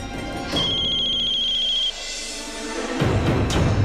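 A telephone rings with a steady, high electronic trill for over a second, then falls silent as louder rustling and movement noise take over.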